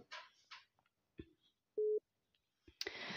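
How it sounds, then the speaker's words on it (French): A short electronic telephone signal tone beeps once among faint scattered noises and brief sounds. "excusez-moi pour le téléphone"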